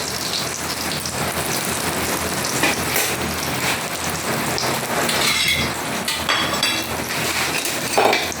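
Heavy morning rain pounds down continuously, a dense hiss of drops striking surfaces with occasional sharper spatters and knocks, loud and close throughout.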